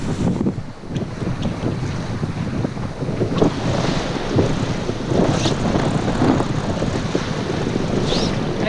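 A sailboat running under genoa alone at around six knots, with steady wind buffeting the microphone and water rushing and slapping along the hull in a continuous, fairly loud wash.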